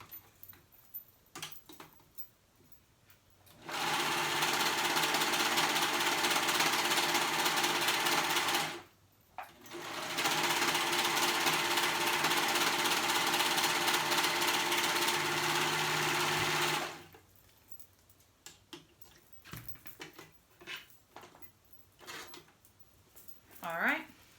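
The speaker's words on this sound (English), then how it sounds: "we're going to sew that raw edge at the bottom" Sewing machine stitching the raw bottom edge of a child's pant leg closed: two steady, whirring runs of several seconds each with a brief pause between, loud and close, framed by quiet handling of fabric.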